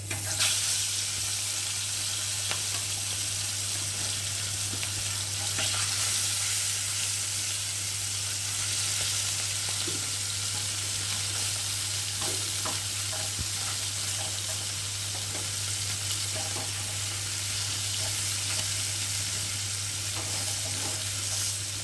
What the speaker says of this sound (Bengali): এখন মাছগুলো আবার ভেজে নিই যে কটা রয়েছে